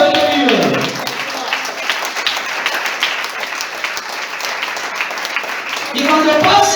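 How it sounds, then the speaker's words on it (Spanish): A church congregation applauds during a lively service, a dense wash of clapping that holds steady, with voices and shouts rising at the start and again near the end. "Aplaudan que vive."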